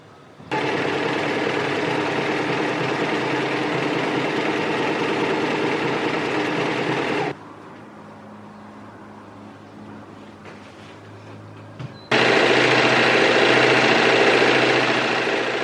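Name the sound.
serger serging dress seams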